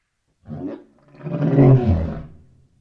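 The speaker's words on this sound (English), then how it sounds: "L for lion." Lion roaring in a cartoon: a short low growl followed by a longer, louder, rumbling roar that swells and then fades, heard alone with no talk.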